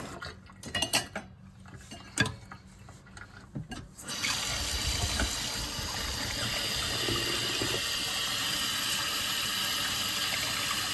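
A salmon head is handled at a kitchen sink: a few clunks and clatters at first, then water from the tap starts running in a loud, steady, broadband rush that continues to the end, with no talking.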